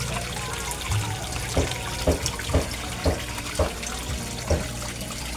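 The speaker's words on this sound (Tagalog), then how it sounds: "ang air pump ko 18 watts lang siya, pero ang lakas-lakas niyang mag-create ng bubbles" An 18-watt aquarium air pump pushes bubbles through water, giving a continuous burbling wash broken by regular soft pulses about every half second, fairly quiet and close.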